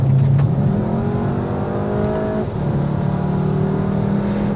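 Turbocharged 2.0-litre EA888 third-generation engine in a Volkswagen Jetta GLI with DSG, running steadily and loud and close, with a harmonic drone that climbs in pitch, drops briefly and rises again as it revs.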